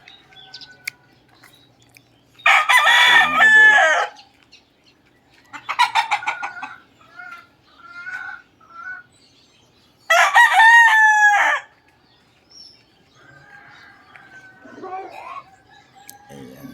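Young roosters, stags of six to eight months, crow nearby in three loud, drawn-out bursts. Softer clucks and murmurs fill the gaps, and a voice talks faintly underneath.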